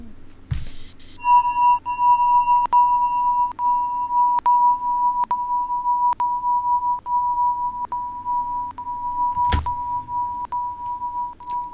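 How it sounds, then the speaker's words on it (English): A sampled bell sound played back with time-stretching, a steady sustained ringing tone with a regular pulsing pattern of soft clicks, and a louder thump near the start and toward the end. "That's my bell. That's my standard bell stuff."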